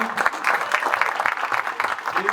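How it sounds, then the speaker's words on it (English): An audience at an education conference session claps briefly for a favorite guest, a moderate, close burst of scattered applause with some crowd murmur underneath. "So your favorite guest by show of applause."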